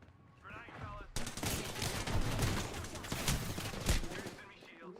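Rapid video game gunfire erupts in a dense, continuous burst of automatic shots lasting several seconds, loud and close, with voices talking underneath.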